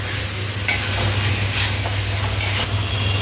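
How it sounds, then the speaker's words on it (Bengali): Young jackfruit and potato sauté in a pan, a steady sizzle under a low hum with a few sharp scrapes of stirring, close and continuous, nobody speaking. "এবার এঁচোড় আলু দিয়েও আরও আমি 3 মিনিট মতো কষে নেব।"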